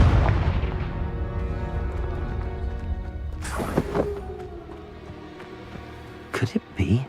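Confringo explosion spell in the video game Hogwarts Legacy, a heavy booming blast with rumbling decay, followed by sharp whooshing bursts and later a couple of short crackling impacts, with a voice calling out over it.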